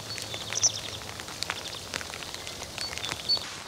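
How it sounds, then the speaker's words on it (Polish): Light drizzle falls outdoors, a faint, steady patter of scattered raindrops with a few sharper drops landing close by, as on a jacket. No voices. "musicie mi wybaczyć ewentualne dźwięki padającego deszczu"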